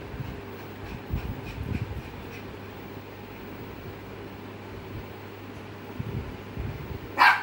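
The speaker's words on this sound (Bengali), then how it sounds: "আবার ডাকছিস কেন?" A pet dog barks indoors at home, a few scattered barks over a steady background hiss, with a louder, sharper bark right at the end.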